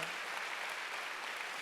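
Congregation applause during a Wednesday worship service at a Korean church, a close, even patter of many hands clapping continuously, with no speech over it.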